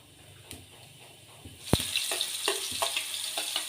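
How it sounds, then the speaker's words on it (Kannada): Mustard seeds and cumin sizzle and spatter in hot oil in a pan, a steady close frying hiss with scattered sharp pops and crackles building after a sudden burst. "ಎಣ್ಣೆ ಬಿಸಿ ಆದಮೇಲೆ ಸಾಸಿವೆ ಹಾಕ್ಕೋತಾ ಇದ್ದೀನಿ."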